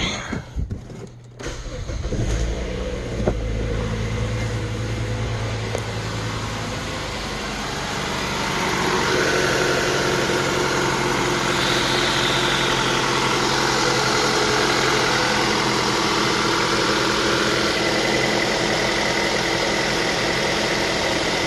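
A Mazda 3 with a 2.3 L engine idles steadily in a workshop, a low continuous hum and vibration that smooths out after a brief knock and shift near the start, with no talk over it.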